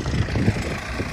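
A tractor engine idling in a paddy field gives a low, steady rumble with a slight uneven throb, moderately close and continuous.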